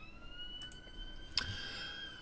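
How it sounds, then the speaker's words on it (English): A distant siren wails steadily in the background, a faint sustained tone with a brief click midway. "apologies for the siren you probably heard in the background then"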